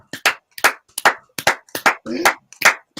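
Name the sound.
people clapping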